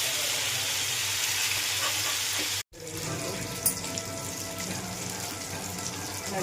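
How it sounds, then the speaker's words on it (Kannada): Fish frying in a pan for a Malnad-style fish fry, a steady loud sizzle filling the whole stretch, cut by a brief silent gap, then resuming with crackles and a small clatter. "ಅದು ಚೆನ್ನಾಗಿ ಫ್ರೈ ಆಗ್ತಿದೆ."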